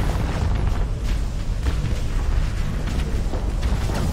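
A spaceship is destroyed in a modded Starsector fleet battle, producing a sustained, loud, rumbling explosion with deep booming bass and crackling bursts that run continuously without pause.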